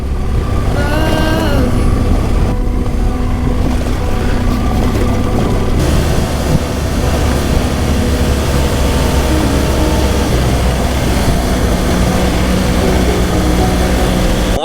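A GS motorcycle rides a Trans Euro Trail section near Saint-Flour with a loud, continuous engine rumble and a steady drone, thick with wind and road noise throughout.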